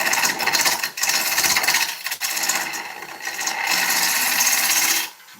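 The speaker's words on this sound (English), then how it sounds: "So I'm going to use that bevel now, and I'm just going to clean up the face so it's nice" A spinning ash blank on a wood lathe rasps steadily as a gouge bevel rides and cleans up the face, with a continuous, loud cutting hiss that briefly dips twice before fading at the end.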